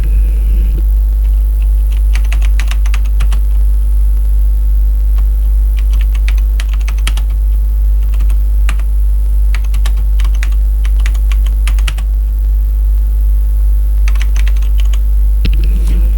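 Typing on a computer keyboard while entering text into an Excel cell, rapid clusters of key clicks over a steady low hum, close and continuous.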